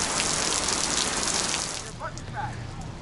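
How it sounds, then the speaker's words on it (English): Rain hisses steadily onto pavement nearby in warm Florida weather, then thins out partway through as a voice speaks briefly over it. "Yeah, it is a nice rain."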